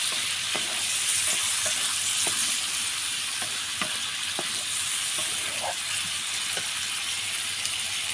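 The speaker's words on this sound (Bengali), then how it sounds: "সজনেগুলাকে হচ্ছে আমি মশলাতে কষাবো" Moringa drumsticks sauté in spices on a clay stove with a constant close sizzle and occasional light clicks and scrapes from stirring, and no voices.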